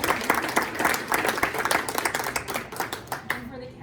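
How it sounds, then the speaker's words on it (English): A modest audience at a school PTSA general session meeting claps for an award winner, with a scattered, moderately loud patter of hands that thins out and stops near the end. "So we'll give a round of applause."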